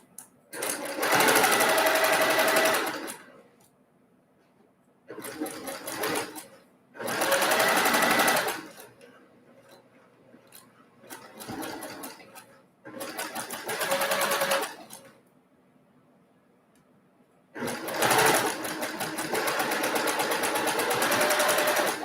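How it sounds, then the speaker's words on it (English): A sewing machine stitches a quilt block in several loud, fast bursts of a few seconds each, separated by quiet pauses, with a longer run of stitching at the end. "I'm going to go sew"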